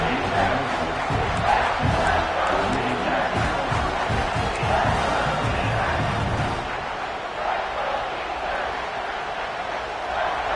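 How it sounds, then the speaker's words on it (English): A loud football stadium crowd roars and cheers for a defense in the red zone during East Carolina vs Clemson, a dense continuous wall of noise that eases slightly toward the end, with some voices mixed in. "the crowd coming to life here, trying to help this defense down in the red zone"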